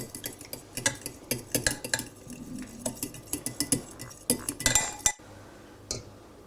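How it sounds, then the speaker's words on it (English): Three egg yolks are beaten briskly in a bowl for marzipan for a Battenberg cake, making fast rhythmic clinks and scrapes of utensil on bowl that stop suddenly, followed by a lone tap. "We're beating together 3 egg yolks to add to the other wet ingredients to make our marzipan."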